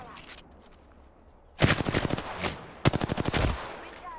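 Two loud bursts of rapid automatic gunfire from a weapon fired by Octane in an Apex Legends Season 10 match, each volley a quick rattling string of shots, the first longer, with faint game sounds in between.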